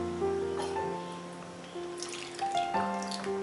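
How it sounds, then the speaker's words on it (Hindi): Water is poured into rajma masala gravy in a pan, a steady trickling splash under a continuous backing of tonal music, with a brief bubbling gush near the middle. "जितना आप ग्रेवी चाहते हैं उतना आप इसमें पानी ऐड कर सकते हैं"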